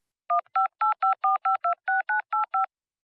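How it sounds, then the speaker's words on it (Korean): A telephone number is dialed on a touch-tone keypad in an audiobook scene: eleven crisp, evenly spaced DTMF beeps in a quick steady rhythm, close and clear, with no talking. "그녀가 명함을 집어들고 전화를 걸었다."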